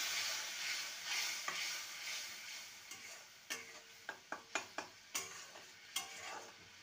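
Masala for egg ghugni stir-fried in a pan: a soft sizzle at first, then a run of sharp spoon scrapes and knocks against the pan, spaced irregularly, fairly quiet and close.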